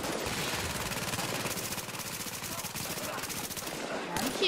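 Rapid sustained automatic gunfire in The Division during a rooftop comm relay firefight, a dense continuous rattle of shots filling the whole stretch, loud and close.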